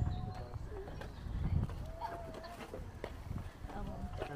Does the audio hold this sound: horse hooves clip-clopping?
yes